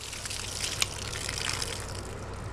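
Water gushes steadily from reconnected well house plumbing, a constant rushing hiss with a few small splashes and a low hum underneath.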